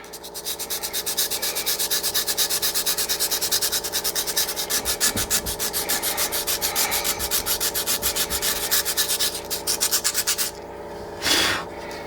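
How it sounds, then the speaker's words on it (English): A rock is sanded by hand with steady, rapid back-and-forth rasping strokes, close and loud, continuing without pause before stopping, followed by a short brush or wipe at the end; no voices. "So I'm trying to sand it, but not completely smooth because the rock isn't completely smooth."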